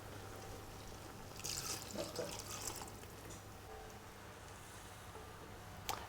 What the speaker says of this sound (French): Je verse le bouillon de bœuf.